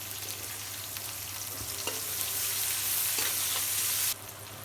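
Onions frying in oil in a wok, meant for dried fish bhuna, a loud steady sizzle that swells as they go in, with a few utensil knocks, then cuts back near the end.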